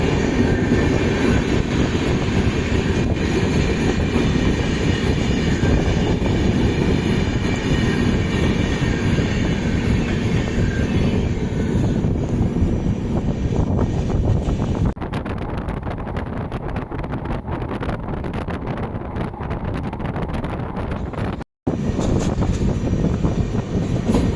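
A Duronto Express sleeper coach runs on rails from Chennai to Dehradun, a loud continuous rumble with rhythmic wheel clatter and wind rush heard from inside, briefly cut by a sharp dropout near the end.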